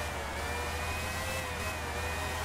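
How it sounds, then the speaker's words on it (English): A Formula 1 car engine in the PS1 game Formula 1 97 screams at high revs, a steady, thin, sustained whine that rises slightly, heard faintly and alone. "engine sounds good. It's what you'd expect from a Formula 1 car of this era"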